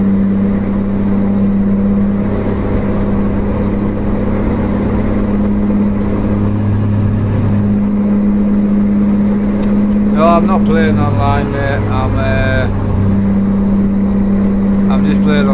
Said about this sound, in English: That's why the truck sounds good, because I'm playing with mods.